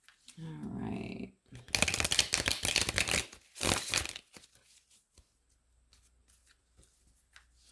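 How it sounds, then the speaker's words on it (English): A deck of playing cards being shuffled, heard as a couple of quick, crisp riffling bursts close to the microphone, then quiet. "I'm so put out shuffling these cards."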